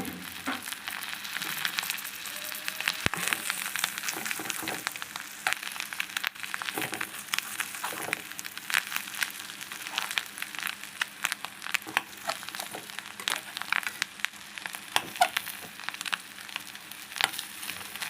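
Pieces of fish roe fry in a pan with a continuous sizzle broken by crackles and occasional scraping, close and steady throughout with no voices.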